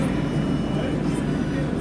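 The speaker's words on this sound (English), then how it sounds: "Fucking planes." An airplane passes overhead during an outdoor beer tasting, a steady broad roar filling the whole stretch without letting up.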